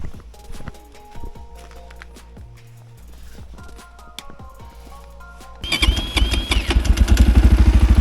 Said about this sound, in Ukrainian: перевіримо заведеться чи не заведеться.